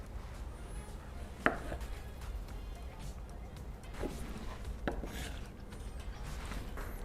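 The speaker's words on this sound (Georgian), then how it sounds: "წვრილად დავჭერთ პომიდორი." A knife finely chops tomato on a board for a quick omelette with salsa, giving a few sparse, soft taps over faint kitchen background and low room hum.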